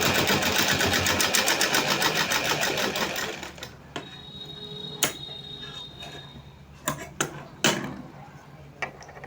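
A sewing machine runs fast and steady while stitching a small dress for a Kanha ji idol, then stops, leaving scattered clicks and knocks of handling the fabric and machine.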